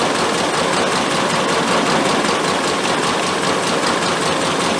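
A classic car engine fitted with SU carburettors idles steadily and close, a dense, even, rattly hum with a fast ticking pulse and no pauses.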